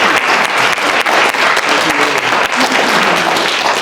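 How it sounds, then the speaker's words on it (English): Loud, close audience applause at a finance forum annual meeting, thanking finance committee members: a dense, continuous roar of clapping hands lasting about four seconds with no talk over it. "We need to do 2 rounds of applause."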